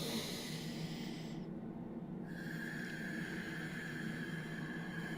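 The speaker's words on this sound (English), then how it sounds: "Take that really strong inhale and exhale out slow." A person breathing deeply in a mindfulness exercise, a strong inhale followed by a slow, airy exhale, close and soft against a faint steady hiss.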